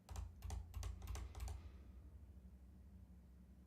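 Quick bursts of typing on a computer keyboard, a rapid cluster of close keystrokes for about a second and a half, then quiet room tone.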